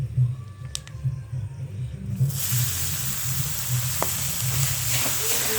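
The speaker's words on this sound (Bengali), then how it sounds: "চিনিটাকে একটু লাল লাল করে ভেজে নিতে হবে, ক্যারামেলের মতন করে ভেজে নেব।" Grated coconut fries in melted, caramelizing sugar, a steady loud sizzle that swells from about two seconds on, with occasional soft clinks over a low background hum.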